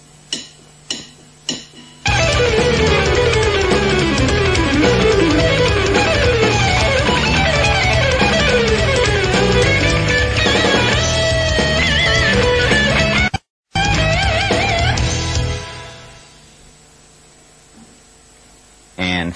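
An instructional electric guitar lick from 1993 starts with a few picked notes, then a long, fast, loud distorted run of notes with a brief cut near the end before it fades.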